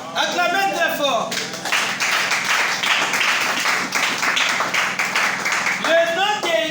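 Audience applause at a French-language sermon or preaching gathering, steady dense clapping for several seconds between stretches of a voice.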